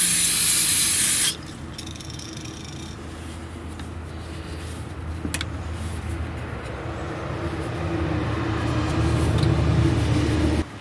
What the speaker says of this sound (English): I will spray it with some carb cleaner first.